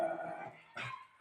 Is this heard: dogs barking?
yes